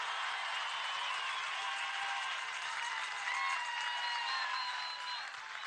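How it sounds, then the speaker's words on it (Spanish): Steady applause and cheering from a political crowd honoring Venezuelan president Maduro at a candidacy registration event in Barinas, a dense sustained roar of clapping and voices with whistles over nearly six seconds. "Vamos a darle un aplauso y una bulla al presidente Maduro."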